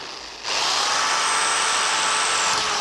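A power drill bores into a metal door hinge fitting, starting abruptly after a brief lull and then whining steadily and loudly at close range until the end.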